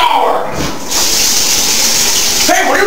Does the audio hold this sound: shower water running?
yes